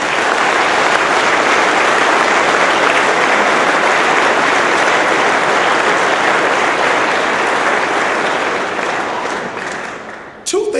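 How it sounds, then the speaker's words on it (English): Loud, sustained applause from a crowd at the announcement of Tulane's new head football coach, honoring the players. The clapping is dense and continuous for about ten seconds before a brief drop near the end. "Give those guys a round of applause."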